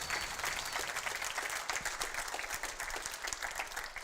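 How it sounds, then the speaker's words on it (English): A conference audience applauds a platinum sponsor, steady dense clapping from a full room that holds at an even level throughout, with no voices over it. "So please give a big round of applause for our platinum sponsor,"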